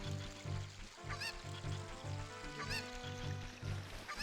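Cucco chicken clucking in Zelda: Ocarina of Time, with honking, squawking game calls repeating over a looping tonal music bed, moderately loud and continuous, no talk.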